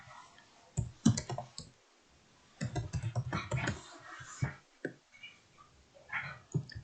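Rapid irregular clicks and taps from a computer mouse and keyboard sound in bursts close by in a quiet room, with pauses between clusters.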